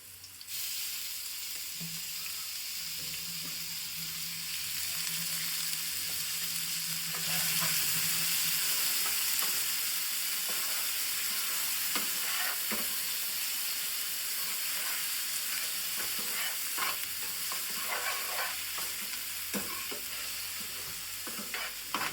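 Dry onions fry in a pan with green garlic, giving a steady, loud, hissing sizzle throughout with occasional stirring scrapes and crackles.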